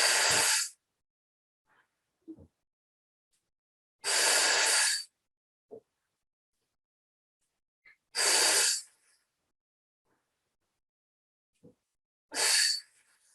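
Forceful breathing during a hatha yoga arm exercise, four loud, sharp exhales through the nose or mouth about four seconds apart, each followed by faint, quiet inhales, close and with no talking.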